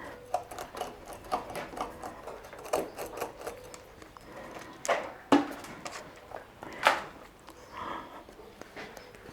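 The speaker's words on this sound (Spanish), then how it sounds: "vamos cepillando bien toda la madera" Dry olive bonsai deadwood being brushed, a soft, uneven scratchy rubbing made of repeated short strokes, close and fairly quiet, with no voices.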